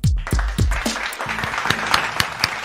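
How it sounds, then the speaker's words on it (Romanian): Studio applause on a provincial morning radio show in Arad, Romania; a burst of clapping rises over a fading musical jingle with deep booming hits, then settles into lively, moderately loud hand claps. "am aplauze"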